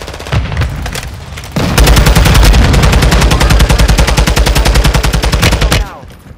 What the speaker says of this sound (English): I don't know where else I'm being shot from.